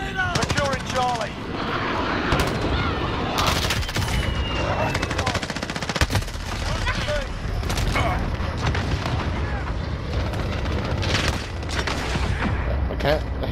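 Loud, relentless gunfire from a shooter video game, with rapid automatic bursts and heavy booming explosions layered densely throughout, barely pausing.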